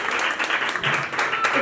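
A Sunday church congregation gives a short burst of energetic clapping, dense and fairly close, with scattered voices mixed into the applause.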